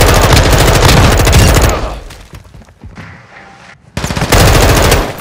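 Rapid automatic gunfire in the video game Call of Duty: Modern Warfare, loud and close, bursting hard, dropping away to quieter rattles and thuds mid-clip before a heavy renewed burst at the end.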